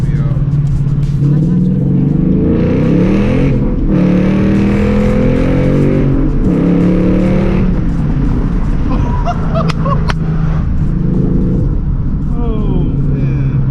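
A loud Ford Mustang engine revs hard and repeatedly, its rising and falling roar filling the whole stretch, with a voice talking over the noise.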